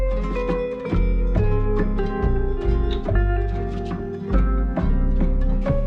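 Narcos theme sample pitched down eight semitones on an MPC Live 2, giving a slow, heavy loop with deep repeating bass notes and thick sustained harmonies, loud and without talk.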